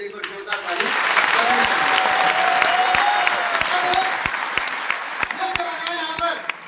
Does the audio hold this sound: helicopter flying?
no